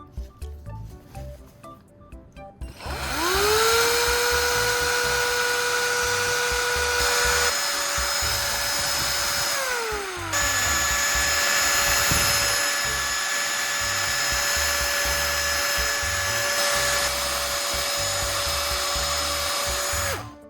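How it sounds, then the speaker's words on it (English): A drill-powered mixer whirs up to a high steady whine and runs for a long stretch, its pitch dipping and shifting while stirring a thick mixture of PVA glue, used motor oil and ethanol. "I'll continue stirring the mixture thoroughly with a drill-powered mixer"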